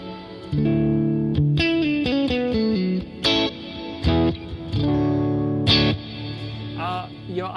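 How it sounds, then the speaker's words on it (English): Electric guitar playing a run of bright sustained notes drenched in exaggerated reverb, with the wash pumping down and swelling back under sidechain ducking between phrases; no voices. "so we have a lot of reverb, but we also have a lot of ducking"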